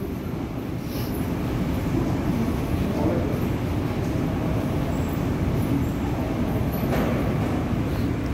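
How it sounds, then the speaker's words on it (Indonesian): An LRT light-rail train in Kuala Lumpur passes as a steady, loud rumble that holds across the whole stretch, with broadband rolling noise and no clear speech over it. "kita nampak LRT lalu guys."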